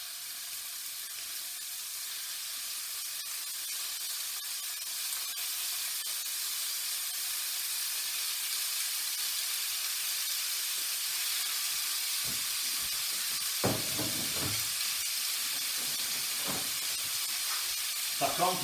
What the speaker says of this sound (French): On veut que la poêle chante au fond.